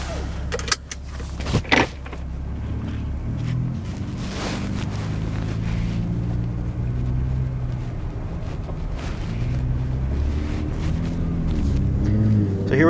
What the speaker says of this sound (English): setting off in the brand new Ford F-150 Raptor. We're currently in normal mode. Normal suspension, normal exhaust.